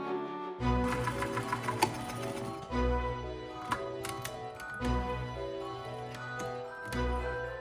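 Sewing machine stitching fabric for a table-top Christmas tree, running in several short bursts with pauses between, steady rapid mechanical chatter up close, with no talking.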